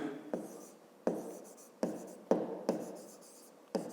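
Pen strokes on paper during a fifth-grade maths lesson on division remainders, in several scratchy bursts with short pauses between them, close and fairly loud with no talk.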